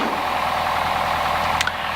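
A light aircraft piston engine holds a steady 1200 RPM, a continuous droning hum with an even low throb and a brief click near the end.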